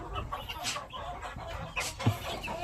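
Japanese Shamo chicks cluck and peep in short, scattered bursts nearby, fairly faint against a quiet farm background, with no one speaking.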